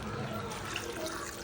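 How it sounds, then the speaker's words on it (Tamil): Water pours into a pot of mutton gravy being cooked, a steady rushing splash filling the whole moment at an even, close level. "இதை தண்ணி ஊற்றிக்கலாம்."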